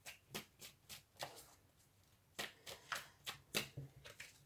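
Tarot cards being shuffled and drawn by hand at close range, a series of soft, quick papery flicks and slaps in an uneven rhythm, quiet and with no voices.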